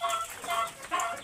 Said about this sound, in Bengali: এটা হচ্ছে পাহাড়ি খোপা মুরগি